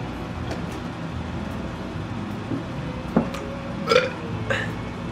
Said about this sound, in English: A milk burp.